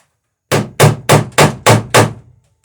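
Six sharp, evenly spaced hammer blows strike a rivet while building an Alpha Beachcomber boat, each a loud, close ringing knock following quickly on the last before silence returns.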